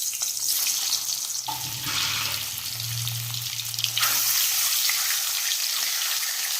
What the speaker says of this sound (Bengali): তেলটা গরম হয়ে গেছে, এবার ডিমগুলো আমি ভেজে নিচ্ছি